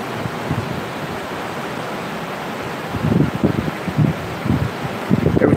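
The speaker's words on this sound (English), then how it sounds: "Can you hear the ocean by any chance?" Ocean surf at Indian Rocks Beach, Florida, a steady wash of broadband noise heavy with wind rumble, with a few low thumps of breaking waves toward the end.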